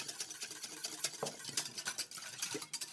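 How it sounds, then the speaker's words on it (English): A utensil briskly stirs a cider vinegar and water mixture into egg for a 1935 hot slaw dressing, a quick run of close, quiet scraping and clinking strokes against the bowl, with no talking. "we're going to mix that into the egg"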